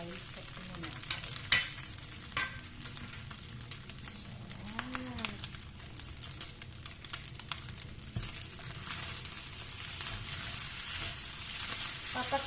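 Tuna and egg fried rice sizzles steadily in a pan while a utensil stirs and scrapes through it, with occasional sharper clinks over the constant frying hiss.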